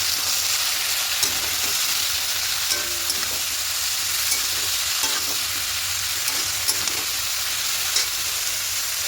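Vegetables frying together with a hilsa fish head for a spinach ghonto, a loud, close and continuous sizzle with light, irregular stirring clicks and no speech.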